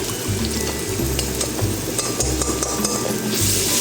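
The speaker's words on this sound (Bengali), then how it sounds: "এরপর রসুন বাটাটিকে তেলের মধ্যে ভালো করে ভেজে নিতে হবে" A spoonful of garlic paste fries in hot oil for Bengali-style aloo dum, a loud continuous sizzle and crackle with scraping spatula strokes and low pan knocks throughout.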